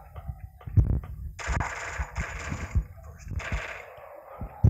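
Bursts of gunfire from a mobile video game crackle in short rapid volleys, interleaved with a voice talking over the action and scattered low thumps.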